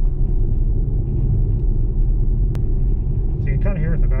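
Boomy low road rumble fills the cabin of an electric vehicle cruising at about 50 kph, a steady droning hum with a faint rattle, and a voice speaks briefly near the end.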